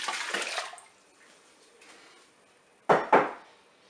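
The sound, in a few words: mussel cooking juice poured into Cookeo pot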